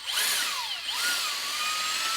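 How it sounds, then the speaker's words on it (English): Power drill stirring wine must from a Cabernet Sauvignon kit to degas it, a loud continuous whine whose pitch dips and swoops as the speed changes, close by with no talking. "So if you're using a drill, 4 to 5 minutes agitating to get rid of any kind of"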